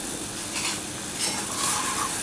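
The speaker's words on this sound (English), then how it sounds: "Keep it rapidly boiling. All the time you're evaporating that liquid." A sauce for chicken ballotine boils rapidly as it reduces in a pan, giving a dense, constant bubbling sizzle with faint stirring scrapes and no speech.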